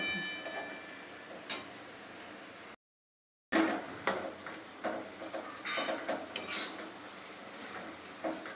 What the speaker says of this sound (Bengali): আমরা শাকটাকে একটু ভেজে নেবো